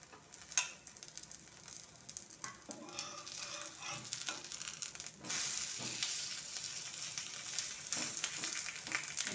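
A ragi and cucumber thalipeeth fries in oil on a low gas flame, giving a soft, steady sizzle with scattered small crackles and pops, faint and close, with no speech.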